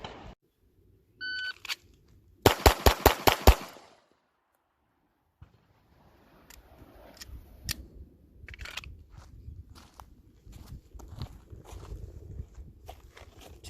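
A CZ P10C pistol fired on iron sights gives a rapid string of about six sharp, loud shots close together, followed after a pause by fainter scattered clicks and handling noises.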